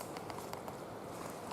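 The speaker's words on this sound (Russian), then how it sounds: "Слышите, как штормит?" Stormy rain and wind outdoors on an autumn hunting trip, a dense, even wash of rain and gusting noise that fills the whole clip with no clear voices.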